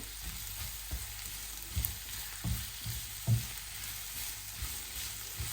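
Onion and garlic fry in a pan for a mutton sukka, giving a constant hiss with repeated scraping stirs every second or so, close and fairly quiet, no voices.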